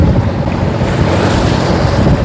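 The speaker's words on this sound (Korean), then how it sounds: "파도세요. 파도." Rough sea waves slap against a fishing boat out at sea on a hairtail fishing trip, a loud steady wash of water and wind noise with no talking.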